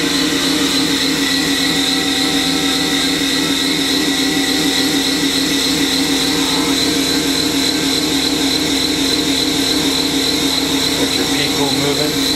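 A Haas VF-OE vertical CNC machining center spindle runs at 4,000 RPM, producing a loud, steady high-pitched whine with dense mechanical hum, constant from start to finish.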